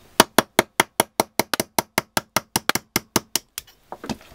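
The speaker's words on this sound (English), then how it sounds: "we're going to knock it out with a punch and a hammer." A punch struck with a hammer to drive a rusted sight plate out of a Glock slide gives about eighteen sharp, evenly spaced metallic knocks, close and loud, before a brief rustle at the end.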